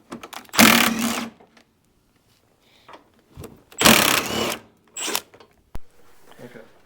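A ratchet backs out 12 mm bolts on a CB7 Honda Accord front bumper. Two rapid, close-up bursts of ratcheting are separated by quieter clicks and handling noises.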